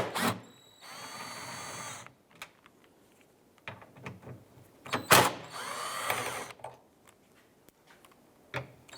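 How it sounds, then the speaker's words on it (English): A power driver with a T30 Torx bit removing screws from the tailgate panel of a 2010-2016 Cadillac SRX, giving short whirring bursts close by, interspersed with clicks and quiet handling noises. "remove these 3 Torx bit screws using a T30"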